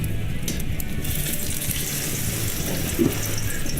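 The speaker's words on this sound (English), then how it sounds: "That sizzling is loud, meaning the pan got too hot" Bread fries in a pan of olive oil that has overheated to smoking, giving a constant loud, dense hiss that holds steady throughout.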